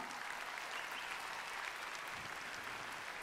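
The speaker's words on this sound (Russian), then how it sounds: "надо вернуть аплодисменты" A large audience applauds at the grand final of a talent show, a steady dense wash of clapping that holds evenly throughout without pause.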